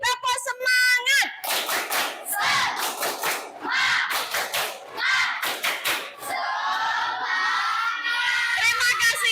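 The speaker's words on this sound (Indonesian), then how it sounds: "Sekali lagi, tepuk semangat." Schoolchildren standing in a classroom repeat the 'tepuk semangat' clap chant, sharp patterned handclaps mixed with loud shouted syllables in rhythmic bursts, ending in a long collective shout, close and energetic.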